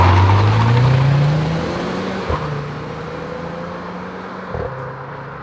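A modified Renault Clio 4 RS makes a launch-control start: a loud engine roar rises in pitch over a couple of seconds, then settles to a steadier drone as the car pulls away, with no speech.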